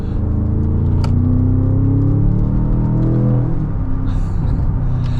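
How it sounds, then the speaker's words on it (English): A 2025 Range Rover Sport SV Edition Two's engine and exhaust under way, a loud continuous rumbling drone with a rising whir that swells mid-clip, heard from inside the cabin without talk. "the exhaust, you know, it is obviously nowhere near as loud as the 5-liter supercharged V8 once was, but it is not quiet"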